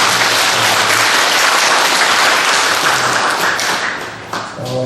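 Church congregation applauding together in a sanctuary during a Sunday service, a dense, loud, steady wash of clapping that thins near the end as a few voices and a low tone emerge.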